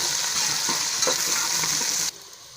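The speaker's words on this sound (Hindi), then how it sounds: "अब प्याज को फ्राई करेंगे।" Onions fry with a steady, loud sizzle in a pan while being stirred, the crackle broken by a few scraping stirs before the sizzle drops off sharply near the end.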